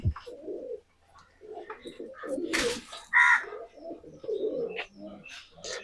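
Domestic pigeons of one matched breeding pair, kept for sale, coo in repeated soft rolling calls close by, with a few sharper bird notes and wing or cage sounds between them.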